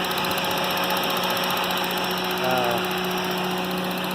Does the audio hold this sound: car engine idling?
yes